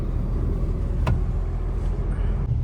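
Road traffic jam in Delhi: a steady low rumble of idling cars and engines nearby, with a brief sharp click partway through.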